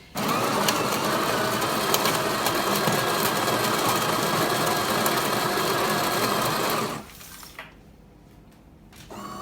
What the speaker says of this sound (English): it'll make a little bit of noise, and that's just the coffee grind at first.